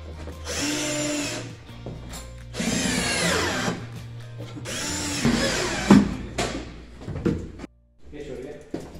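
Power drill driving screws from below into kitchen cabinets during installation in a detached house, several whirring bursts separated by pauses, with people talking and knocks of cabinet parts around them.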